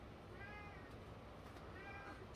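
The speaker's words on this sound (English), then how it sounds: "my cat is whining as always" A pet cat named Demon whines and meows indoors, a faint, drawn-out cry that comes twice against a steady low background hiss, with no one talking.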